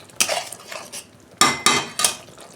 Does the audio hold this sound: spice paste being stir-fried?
yes